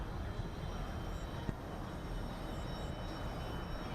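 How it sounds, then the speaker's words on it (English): Two military aircraft land in formation at the Zhuhai airshow, heard as a steady, distant jet-engine roar with a broad hiss and no distinct peaks. "right now this is the formation landing of 2 aircraft"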